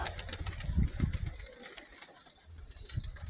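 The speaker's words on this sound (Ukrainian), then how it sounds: "хочу показати, як летять голуби в селі Високому" Pigeons flutter and flap nearby in the village of Vysoke, a busy burst of wingbeats and soft cooing over a steady low engine-like rumble.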